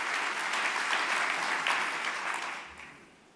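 An audience at the European Communication Summit applauds a speaker, dense sustained clapping that holds steady and then fades out over the last second.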